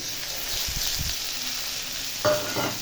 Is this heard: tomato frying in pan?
yes